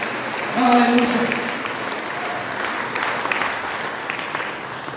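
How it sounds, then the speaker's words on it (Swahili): Congregation in a Swahili church service clapping and ululating together, a sustained wash of applause with a brief loud burst of high trilling near the start, continuing under crowd voices. "Ongeza tena na vigelegele."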